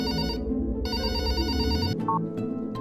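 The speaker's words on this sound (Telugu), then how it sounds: "ఛా, ఫోన్ కూడా లిఫ్ట్ చేయట్లేదు. ఇంకోసారి చేస్తాను." A phone ringback tone sounds while a call goes unanswered, steady repeating tones broken by a brief pause, loud and close with no talking.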